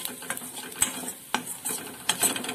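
Red and green chili with a pinch of red chili powder being stir-fried in a pan for sev tamatar sabzi: continuous sizzle broken by a few loud spatula scrapes and clinks against the metal, close and without talk.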